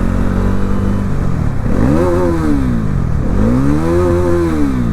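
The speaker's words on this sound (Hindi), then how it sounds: "तो पूरी हाई RPM पे जाने थी, मैंने कहा चेक करते हैं रेव लिमिटर आता है नहीं आता, कब तक आता है।" A motorcycle engine revs at high RPM up toward the rev limiter, around 10,000 rpm. Two loud, close-up rising-and-falling pulls stand out over a constant engine drone.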